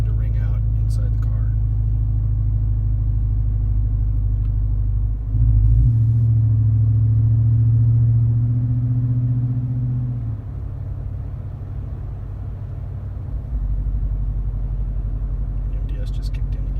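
A Ram 1500 Hemi truck engine idles with its cylinder deactivation system engaging, a steady low rumble heard from inside the cab that swells and deepens in tone midway before settling back to a quieter drone.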